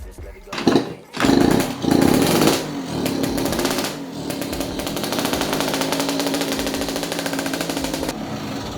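An old, cheap motorcycle with a fouled engine is kick-started. A few uneven coughing bursts turn into a steady, buzzing, sputtering idle that doesn't rev up cleanly, heard up close.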